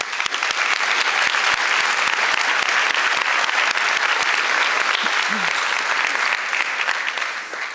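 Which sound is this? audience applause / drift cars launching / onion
audience applause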